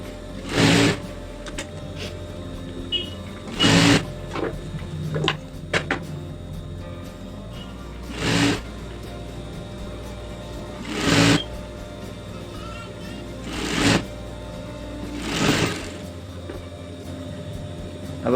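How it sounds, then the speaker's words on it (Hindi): A sewing machine stitches the corner of a lehenga in short, evenly spaced bursts roughly every few seconds, close and fairly loud over a low steady room hum. "यहाँ से हमें इस तरह से लहंगे की कॉर्नर पे हमें सिलाई शुरू कर देनी है"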